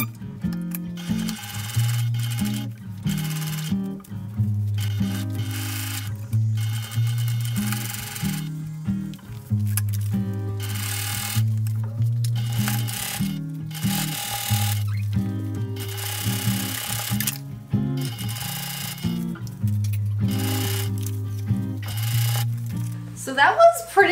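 A sewing machine stitches thrifted vintage GUESS clothing in rapid mechanical bursts, running in repeated stretches separated by brief pauses, close and moderately loud.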